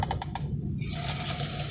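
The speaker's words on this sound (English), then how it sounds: "Now lightly just go ahead and crack your valve here and let it fill up." After a few quick clicks of a valve being cracked open, water hisses steadily into a Culligan WH-S200-C whole-house sediment filter housing, close and continuous without talking.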